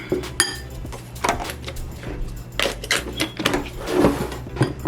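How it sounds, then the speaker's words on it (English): Sticky dough for a snack is stirred in a bowl, producing irregular scraping clinks of a utensil against the dish, close and moderately loud, with no talking. "And now we mix, and this is going to be like a sticky dough"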